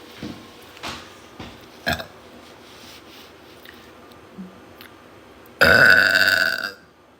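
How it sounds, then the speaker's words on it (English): A long, loud burp from a girl bursts out near the mic and holds for about a second, following a few quieter knocks and faint sounds beforehand. "I wonder if there's like health like risks for burping so much."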